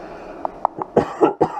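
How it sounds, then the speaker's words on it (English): A person coughs several times in quick succession, close and fairly loud, starting with small throat sounds and building to stronger coughs, with no talking. "I got a little cough"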